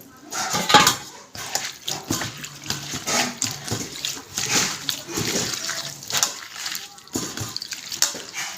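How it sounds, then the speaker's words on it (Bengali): Teasel gourd and potatoes being washed together by hand in water, with continuous splashing and sloshing, rattles of a pot or bowl, and a running tap in a village kitchen. "এবারে কাঁকরোল আর আলু একসঙ্গে করে ধুয়ে নেব।"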